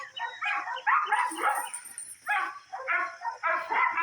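A rescue dog named King, shedding, barks in a backyard overgrown after summer: several close, loud barks come in quick clusters with short pauses between bursts.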